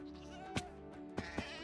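A goat in the Minecraft video game gives three short, clipped bleats over a soft, steady game-music background, the sounds fairly close and spaced apart.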